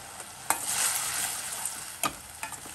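Semiya, vermicelli cooked with sugar, is stirred in a pan. A close, steady sizzle is punctuated by a few sharp scrapes and taps of the spoon against the metal.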